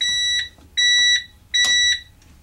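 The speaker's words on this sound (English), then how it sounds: "you're going to hear that beep as a reminder" Three evenly spaced electronic beeps from a vehicle's lights-on reminder, each a steady high tone lasting about half a second, loud and clear with short gaps between.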